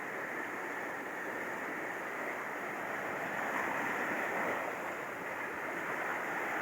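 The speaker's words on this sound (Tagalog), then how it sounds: "malaking alon." Big typhoon-driven ocean waves on the coast at Bari-is, Caibiran, heard as a steady, continuous surf roar with wind noise throughout, loud and unbroken, with no voices.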